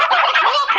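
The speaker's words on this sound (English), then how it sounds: "That must be the chickens." Dense gobbling fowl calls from a poultry flock, a continuous loud burst of overlapping warbling cries with no pauses and no talk.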